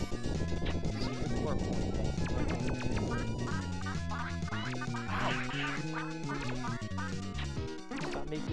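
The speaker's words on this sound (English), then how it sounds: "Stop making me sound like a duck when I get hit." Cartoonish duck quacks sound as the character is hit in the Plok video game, cutting over busy, loud game music with bouncy bass notes.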